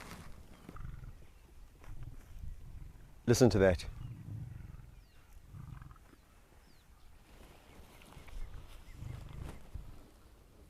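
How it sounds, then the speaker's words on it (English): A lion makes low, purr-like rumbles in short pulses, with one louder, rougher burst partway through, while people talk quietly nearby. "It's almost the lion equivalent of a purr."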